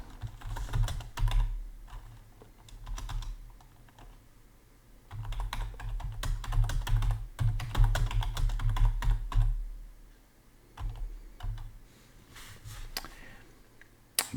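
Bursts of fast, close typing on a computer keyboard, dense clacking runs broken by short pauses and a few isolated key taps, loud and clear with no talk.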